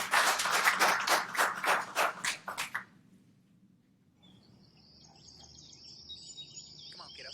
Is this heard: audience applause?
yes